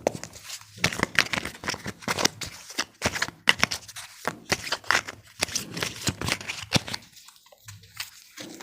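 Tarot cards being handled and shuffled, with steady papery riffling and slapping that comes in close, repeated bursts, then drops to quiet near the end.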